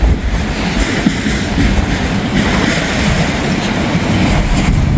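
An intermodal freight train rolls past close by, a loud, steady rumble of wheels and cars with faint clatter running unbroken throughout.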